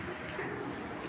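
A silver-necked Fitki pigeon, one of a group of down-shaped silver-eyed birds kept with their young, coos softly and steadily at close range, a low continuous murmur with no talk over it.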